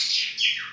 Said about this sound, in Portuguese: você escuta o carinho e a harmonia de pássaro preto